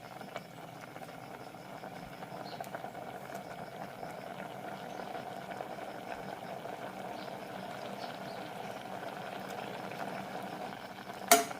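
An ash gourd and curd koottu curry boils in a pot, a faint, steady low bubbling and simmer that runs throughout, with a brief clink near the end.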